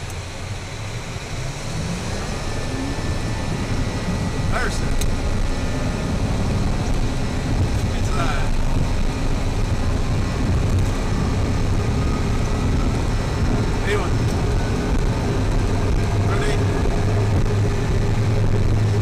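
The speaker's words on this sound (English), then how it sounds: "totally normal to get that little increase in wind noise from the pressurization area" Steady broadband wind roar inside the cockpit of a Learjet 35A in flight, with a low engine hum underneath and a few faint clicks, continuous and loud throughout.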